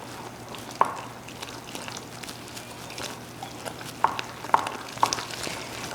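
A spoon stirs gluten-free pancake batter with buttermilk in a bowl, making a faint, soft scraping with a few sharper clinks against the bowl, spaced irregularly and quiet overall.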